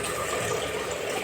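Water poured onto hot rice in a large batch being cooked for about 20 people, a steady close rushing pour with no one speaking.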